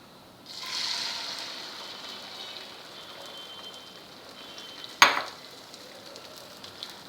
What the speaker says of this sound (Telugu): తర్వాత అప్పుడు మనం బాగా ఇలా బీట్ చేసి పెట్టుకున్నటువంటి దీన్ని ఇందులో వేసేసుకుంటాం అన్నమాట.